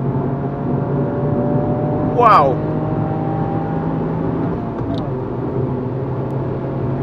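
A 2022 Toyota GR Yaris pulls hard in sport mode on a race circuit, its engine droning steadily with a rising tone and a brief rushing swell midway, while a voice talks over the cabin noise.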